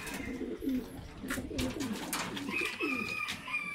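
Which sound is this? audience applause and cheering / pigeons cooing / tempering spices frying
pigeons cooing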